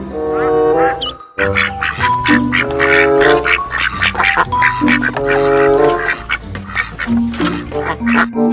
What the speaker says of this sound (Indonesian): ternyata ini bebek, teman-teman.